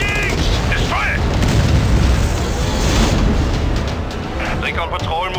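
Deep booms from a heavy panzer tank cannon and battlefield explosions in the video game Company of Heroes 2, a loud continuous rumble under radio-style voice lines.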